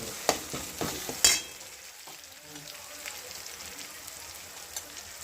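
Pav bhaji ingredients sautéing in a pan, a few sharp spatula scrapes and knocks early on, then a quieter continuous sizzle.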